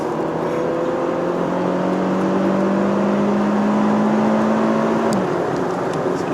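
A Ferrari GTC4Lusso T engine drones steadily while driving, loud and close from inside the car, holding a constant pitch before briefly dropping near the end.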